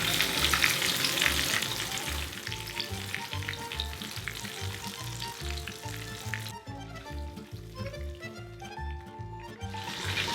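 Calamari deep frying in a mix of rice oil and olive oil, a dense continuous sizzle and bubbling, close and steady, mixed with a rhythmic pulsing sound, with no talking.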